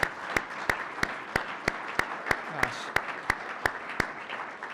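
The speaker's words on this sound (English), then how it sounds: "can I just get a round of applause for all the students we've recognized so far?" Audience applause for students being recognized at a school media arts awards banquet, a steady broadband patter of clapping hands across the room, punctuated by a few sharp individual claps, with a brief voice murmuring underneath.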